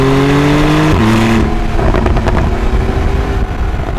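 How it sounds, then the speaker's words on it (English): Porsche 911 Carrera T exhaust, a 2018 car with reduced sound insulation, heard loud and close as the engine note drops and then rises again in a sharp rev with rasping, rhythmic pulses. "The exhaust sound. Do you hear that?"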